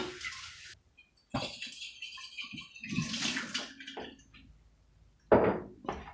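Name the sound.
canning jars being rinsed with water in a sink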